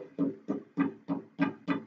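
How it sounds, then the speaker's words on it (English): The end of an open metal pipe, open at both ends, is struck six times in a steady rhythm. Each hit gives a short, hollow, resonant tone with a clear pitched ring that fades quickly, heard close up with no voices. "And if I hit the end of the pipe,"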